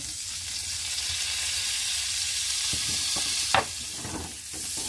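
Garlic toasting and frying in a pan for beef pares fried rice, a steady close sizzle with a few stirring scrapes and clinks.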